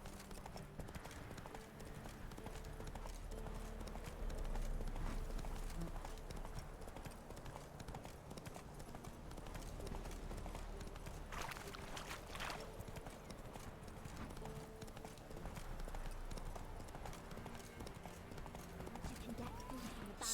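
Horse hooves clip-clop steadily on a road in the Witcher 3 video game, with occasional neighing, under continuous game music and ambience throughout.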